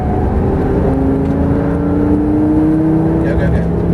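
Lamborghini Gallardo E-gear engine pulls on a race track, a loud steady rising engine tone heard from inside the car, with a person talking over it throughout.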